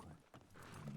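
Horse hooves clip-clopping in a video game, a brief burst of close, soft hoof strikes over a faint background.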